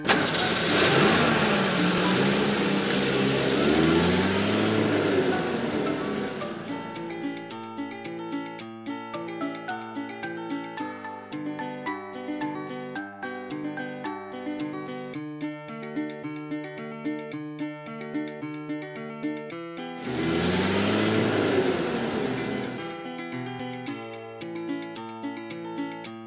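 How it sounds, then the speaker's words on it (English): Vintage car engine cranking and starting, then running with a rhythmic, chugging idle that settles into a steady beat before a second loud start-up burst near the end. "Vintage car."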